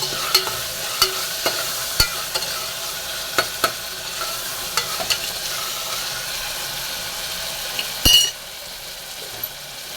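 Tomatoes and onions cook in a pan for a green pea kootu, a steady low sizzle broken by sharp, evenly spaced ladle clinks against the pan and a louder scrape near the end.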